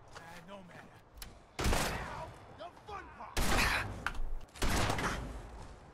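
Gunfire in Fallout 4 cracks out in three loud, sharp bursts of shots, each trailing off briefly, with a voice talking between them.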